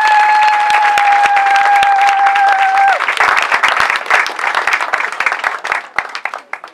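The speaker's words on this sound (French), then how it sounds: "On va applaudir." Guests at a customary wedding applaud, a dense burst of many hands clapping that starts under a sustained held tone and then thins into scattered, uneven claps as it fades.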